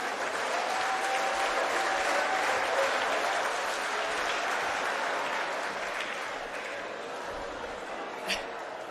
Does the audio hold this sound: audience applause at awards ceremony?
yes